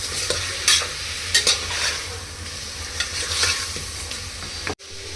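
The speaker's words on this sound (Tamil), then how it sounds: "சிக்கன் போட்டுட்டு ஒரு 2 நிமிஷம் நல்லா வதக்கலாம்." Chicken sautéing with onion and spices in a pan for chicken gravy, a constant bright sizzle broken by repeated scraping stirs of a spoon, close and clear, with no talking.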